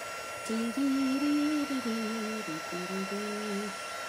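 A loud steady whirring from an embossing heat tool hums continuously, its pitch wavering slightly as it runs, with no talking over it.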